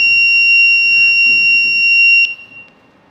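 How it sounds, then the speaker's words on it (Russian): Homemade light-and-sound alarm buzzer triggered by a pulled red wire, emitting a loud, steady high-pitched electronic tone close by for about two seconds before it cuts off abruptly, with faint room noise after. "Выдираем красный провод. И он пищит."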